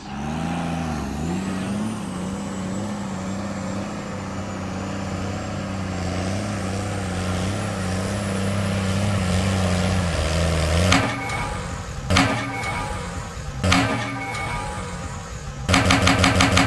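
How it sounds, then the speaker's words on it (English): Lifted 60-inch Ford F450 SEMA truck on 54-inch tires revving hard for burnout attempts, a loud sustained engine drone rising in pitch, then broken into sharp bursts and hisses near the end, close and alone. "You're trying to do burnouts with 54s."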